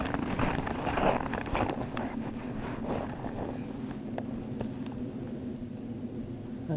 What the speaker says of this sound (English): That sound you hear is a jet passing over.